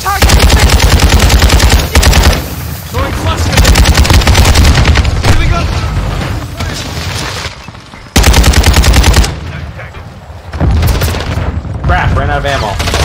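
Gunfire in the Call of Duty video game: loud bursts of rapid automatic fire and single shots, broken by short pauses, with people talking over and between the shooting.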